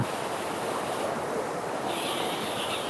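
Mountain waterfall pouring into a forest stream in the highlands, a loud, steady rushing roar of water heard close by with no voices.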